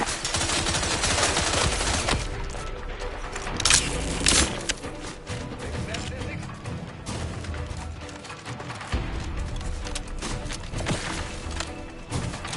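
Heavy video-game gunfire from The Outer Worlds 2, played on a PS5 Pro, forms a loud, dense, near-continuous barrage of rapid shots and crashes that runs the whole time.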